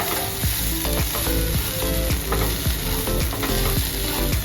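A finely chopped cluster bean (gavar) filling is stirred in a pan, with a loud continuous sizzle and a rapid, regular scraping rhythm of the spoon throughout.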